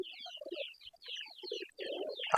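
Pet pigeons coo softly at close range in several short, low, murmuring phrases, with brief quiet gaps and a sharp clatter at the very end.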